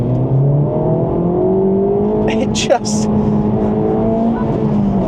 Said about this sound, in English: if I downshift a second and just plant my foot,